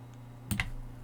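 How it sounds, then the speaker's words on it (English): A computer keyboard's shift key is pressed, giving two quick, crisp clicks close together, close-up against a faint steady hum. "press shift on my keyboard and they will rotate"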